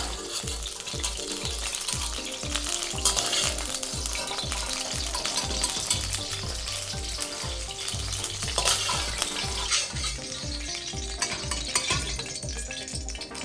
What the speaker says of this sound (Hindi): ऑलराइट, सब्जियां हो गई हैं फ्राई।